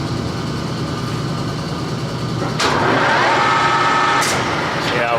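A Clausing Colchester 15x50 metal lathe starts up in a workshop after clutch adjustment, a low hum swelling into a steady mechanical whir with a faint whine, accompanied by a brief clack and shift partway through.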